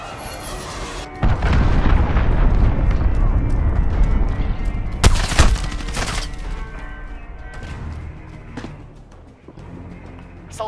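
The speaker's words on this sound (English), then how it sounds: "Enemy cruise missile, take cover!" Cruise missile strikes in Call of Duty: Modern Warfare land as a long stretch of deep, rumbling booms and blasts, with a sharp loud hit near the middle and smaller bursts trailing off into a quieter rumble.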